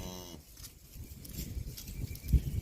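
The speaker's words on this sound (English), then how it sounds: "What are you mooing about?" A cow on a garden homestead after a frost gives a short low moo at the start, followed by faint outdoor shuffling and a soft thump.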